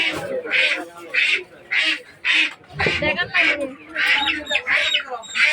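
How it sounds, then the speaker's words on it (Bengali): A flock of ducks quacks in repeated loud, raspy bursts, close by and overlapping in an irregular rhythm. "এখানে অনেকগুলো হাঁস আসতেছে"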